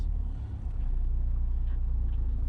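From inside a Honda Civic EK with an H22 engine on an early-morning test drive, a low, steady engine drone and road rumble run continuously at a moderate level with no talk.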